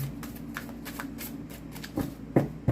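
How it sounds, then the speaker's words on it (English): A deck of tarot cards being shuffled by hand, close up, with soft riffling and a few sharper taps of cards squaring together. "I'm hearing one more shuffle."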